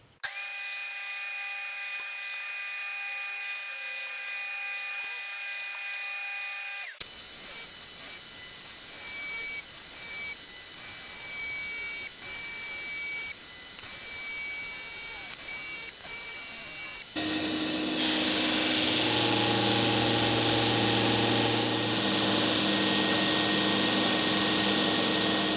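A thicknessing sander takes down the back and sides boards for an acoustic guitar build. It gives a loud, steady machine drone whose tone shifts abruptly twice as the boards are fed through, with no talking.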